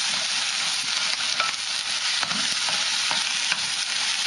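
Vietnamese fried rice with egg is stirred in a hot wok, a steady loud sizzle with repeated scraping strokes of the spatula against the metal, close up and alone.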